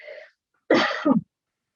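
A single person coughs twice in quick succession, close and fairly loud, after a brief bit of voice.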